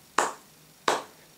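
Two crisp finger snaps about 0.7 seconds apart mark a steady beat during a choir practice session, sharp and close with quick decay, with no voices alongside.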